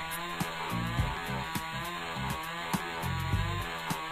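A video game chainsaw grinds into an enemy, a buzzing motor drone broken by choppy revving bursts and a few sharp clanks, steady and close throughout.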